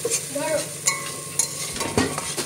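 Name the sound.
momo stuffing frying in pan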